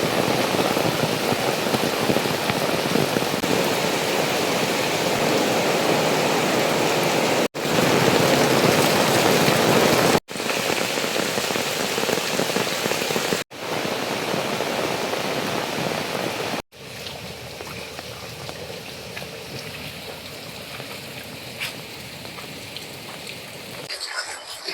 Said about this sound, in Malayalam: നല്ല മഴ തന്നെ പെയ്തത് മോളെ.